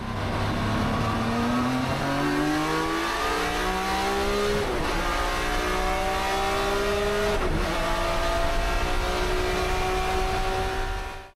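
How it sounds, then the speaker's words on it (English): A 1993 BMW M3 E36 GTR race car with straight-cut gears screams loud through repeated upshifts, the engine note climbing steadily with a whining gear tone and brief dips at each change. "Number 4 brings us to the grandfather of straight-cut dominance, the 1993 BMW M3 E36 GTR."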